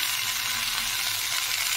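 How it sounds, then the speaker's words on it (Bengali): Chopped vegetables frying with onions in a pan over high heat for a Bengali vegetable dish give off a loud, steady, close sizzling hiss with no pauses. "1 মিনিট হয়ে গেছে, এইবারে সবজিটা আমি দিয়ে দেব।"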